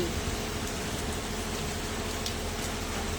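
Steady monsoon rain pours in Tapa Mandi, a dense even hiss of drops on surfaces with no pauses and no voices.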